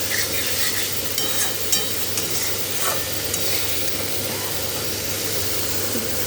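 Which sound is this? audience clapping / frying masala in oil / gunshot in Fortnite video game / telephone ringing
frying masala in oil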